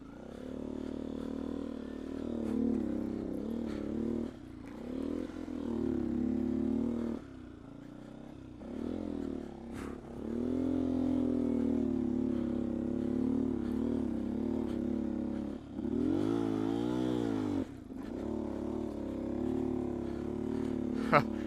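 A 2019 Beta 125 RR-S two-stroke dirt bike rides a muddy, rocky singletrack trail, its engine droning and revving steadily up close with brief dips as the rider picks through obstacles, and the rider talks over it.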